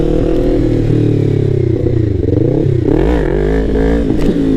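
A Yamaha MT-03 motorcycle with new modifications revs and accelerates for a small wheelie, the engine loud and close with pitch rising and dipping as the throttle is worked.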